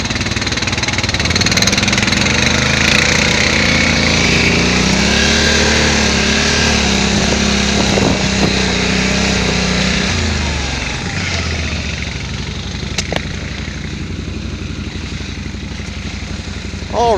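A Can-Am Renegade 570 XMR ATV engine runs steadily and loud up close, with a rough, throbbing idle and faint shifting pitch, easing slightly quieter toward the end; no one speaks.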